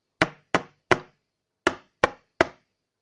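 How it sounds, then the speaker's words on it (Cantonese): Knocking on a door comes as six sharp, hollow knocks, a group of three and then another group of three, close and crisp with silence between them. "於是小白兔就敲門啦。"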